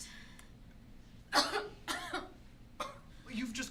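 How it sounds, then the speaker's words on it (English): A person coughs up blood: four or five harsh, close coughs spread over a few seconds, separated by short quiet breaths. "You've just coughed up blood."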